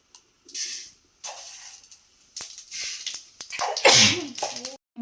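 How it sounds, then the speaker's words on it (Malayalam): Mustard seeds splutter in hot oil in a home kitchen, producing loud, irregular bursts of hissing spray broken by short silences. Sharp crackles are mixed in, and the spluttering peaks near the end. "കടുക് വറുത്തിട്ട് കൊടുക്കാം"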